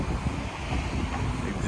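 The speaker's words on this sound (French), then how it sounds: "Désolé pour ce vent très venteux." Wind buffets an outdoor microphone during a seaside carspotting walk in Knokke, a steady loud rumble and hiss filling the whole short stretch without letup.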